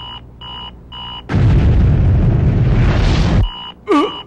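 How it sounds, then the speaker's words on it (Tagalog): A loud, broadband explosion bursts inside a vault in an animated show, a dense roar lasting about two seconds, framed by short electronic beeps before it and a brief warbling tone after. "parang may sumabog sa loob ng kaha."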